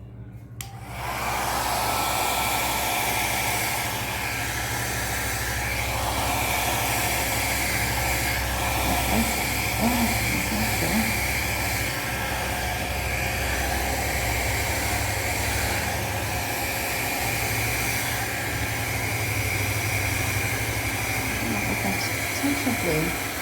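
A hair dryer roars steadily at close range, blowing out acrylic paint across a lavender pour canvas, a constant loud whooshing hiss running nearly unbroken from start to finish.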